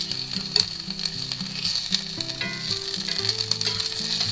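Onions caramelizing in a pan with a steady, fairly soft sizzle and occasional small pops, while a melodic tune plays underneath throughout.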